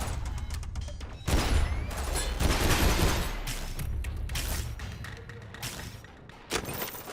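Nail gun shots from Synthetik: Legion Rising, a burst of thumping, clattering fire that starts suddenly and continues loud for several seconds before thinning out amid game-combat noise.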